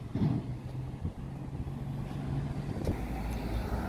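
A lorry on a street in Costa del Silencio, Tenerife, rumbles past at moderate distance, a steady low engine drone with a brief louder swell at the start and a sharp knock near the end.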